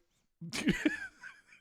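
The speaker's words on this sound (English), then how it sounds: "A preemptive sneeze blessing" One quick sneeze, close and fairly loud after a moment of silence, with a short trailing vocal sound at the end.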